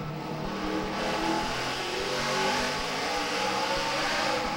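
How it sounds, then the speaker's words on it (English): A NASCAR Craftsman Truck Series truck at the 2008 Kroger 200 revs hard with the throttle wide open, a loud continuous engine roar with spinning tires coming off a corner. "Almost sounded like it spun the tires up off the corner."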